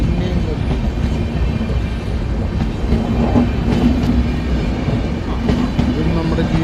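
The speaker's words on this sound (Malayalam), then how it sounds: "തിരുവനന്തപുരം നോർത്തിൽ നിന്ന് SMBT വരെ പോകുന്ന സൂപ്പർ ഫാസ്റ്റാണോ എക്സ്പ്രസ്സാണോ സ്പെഷ്യൽ ഫെയറോ" A passing train rumbles loudly and steadily past a level crossing, with continuous low wheel and engine noise and faint rhythmic clatter throughout.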